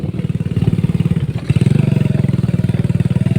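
A motorcycle engine chugs nearby with a rapid, pulsing rhythm, briefly easing then picking up again, loud and steady throughout.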